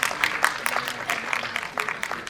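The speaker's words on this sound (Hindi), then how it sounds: "अपना हाथ उठा दिया करें जिससे लोग ताली बजाकर आपका स्वागत कर सकें" A school annual-function audience in an Indian hall claps in a short, scattered burst of applause that sounds moderately near, with a voice talking over it.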